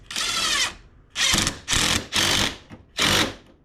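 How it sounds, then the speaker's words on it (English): A cordless power tool tightens a radiator hose clamp on a Suzuki Cara, giving five close, loud whirring bursts of about half a second each, separated by brief quiet gaps. "Put the upper hose back on. Tighten this clamp."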